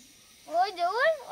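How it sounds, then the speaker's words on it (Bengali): A wild junglefowl rooster calls in a Bengali village: a loud, close, crowing phrase with rising and falling tones lasts under a second, after a quiet start. "মুরগের আওয়াজ বন মুরগ"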